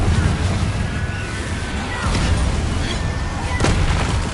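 A Confringo fiery blast spell in the Hogwarts Legacy video game, a loud, dense wash of booming explosive impacts and crackling gunfire-like bursts that runs without a break.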